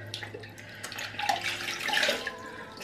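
Running tap water rinsing a makeup removal cloth in a sink, a soft splashing and trickling that swells in the middle and stays faint and close.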